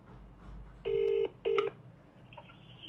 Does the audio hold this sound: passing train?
no